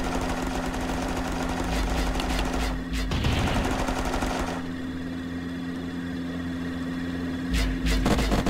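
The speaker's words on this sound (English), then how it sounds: "Barrel launcher. All right, let's test it out." A barrel launcher firing in the game Unturned, loud sharp bursts of gunfire-like blasts with a mechanical rattle, then a quieter stretch before more shots near the end.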